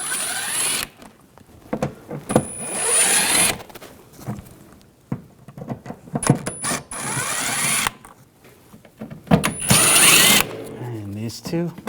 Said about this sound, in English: Using a T15 socket, we're going to take these screws out.